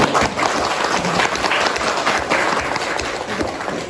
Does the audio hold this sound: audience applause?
yes